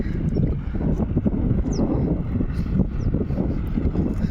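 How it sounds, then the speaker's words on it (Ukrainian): Strong wind buffets the microphone in a continuous low roar, gusting unevenly, with no voices, outdoors during soybean field spraying. "це зірвався вітер, справа страшне"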